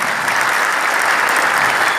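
A seated audience at an indoor wellness-company celebration breaks into sustained applause, a thick, even roar of many hands clapping at steady loudness with no pauses and barely any voices.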